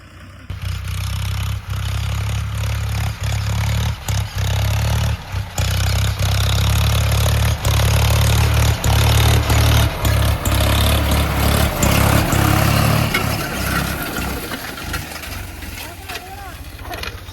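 A Swaraj 733 tractor engine runs steadily close by, a deep continuous low rumble with some clatter, while someone talks over it.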